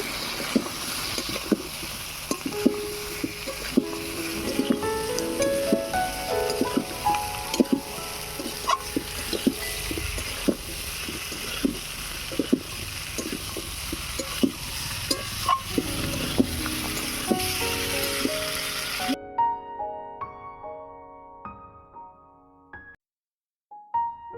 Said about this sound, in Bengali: আলু আর কলাটাকে একটু ভালো করে কষিয়ে নেব